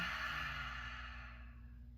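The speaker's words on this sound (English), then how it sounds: "Long exhale through your mouth" A long, steady exhale through the mouth during a guided yoga breathing exercise, soft and breathy, close by and alone, tapering off gradually toward the end.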